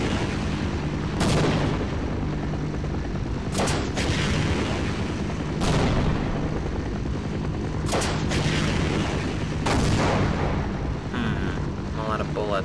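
Gunfire in the video game Half-Life: heavy booming shots land every couple of seconds over a constant rushing roar, loud and close.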